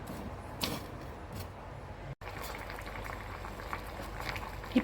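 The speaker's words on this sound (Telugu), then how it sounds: "ఈ యాప్రికాట్స్ ఒక 8 ఈ నీళ్ళలో వేసి మరిగించాలి" Apricots simmering in a pot of water, a soft continuous bubbling and hiss with faint ticks, low and steady throughout.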